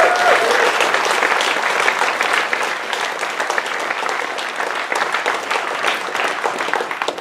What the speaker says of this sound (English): So a huge round of applause for Fantasia.